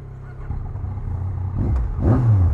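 A 2021 Yamaha MT-09 SP motorcycle on its stock exhaust, revving from a low idle rumble to a louder, rising engine roar near the end, with no talking.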